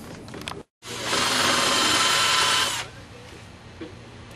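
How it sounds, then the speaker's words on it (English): A power drill bores out rivets on the window motor of a 2002 Camaro, starting after a short pause with a loud, steady whine for about two seconds, then dropping back to a quiet workshop. "All right, let's start drilling, and then we're going to unhook the wires from the back of the motor."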